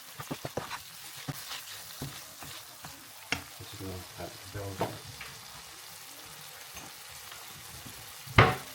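Vegetables and noodles stir-fried in a pan, with scattered scraping and tossing clatters over a low, intermittent sizzle and one sharp clank near the end; no talk.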